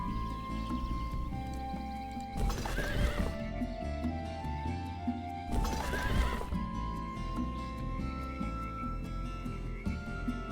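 Horses neigh twice in the Age of Wonders 2 strategy game, loud whinnies rising over clip-clopping hooves and a steady layer of game music, with no talking.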